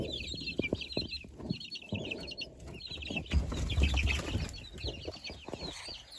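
Young chickens and chicks cluck and peep close by in an irregular, busy chatter, with soft rustling and scratching beneath and no talking.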